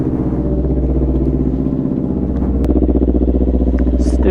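A chopper motorcycle with a Hindle full exhaust rumbles loud and close, the engine note climbing and steadying as the bike rides on, with a brief clatter in the middle.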